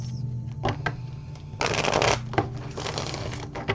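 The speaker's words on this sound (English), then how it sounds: "2 more shuffles." Tarot cards are riffled and shuffled close by, with a few quick flutters and one longer riffle in the middle.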